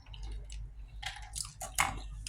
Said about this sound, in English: That is me chewing behind.